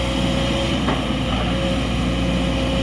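Sumitomo SH210F6 excavator with a large-bore, short-stroke four-cylinder engine running at a steady, even drone, fairly close and continuous throughout with no talk.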